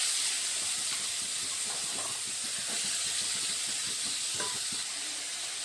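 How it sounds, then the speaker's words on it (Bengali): Potato and carrot pieces fry in hot oil in a pan, a steady bright hiss and sizzle with small crackles and pops, close and even throughout, no voices. "ওই তেলের মধ্যে আমি আলুগুলো ভেজে নেব।"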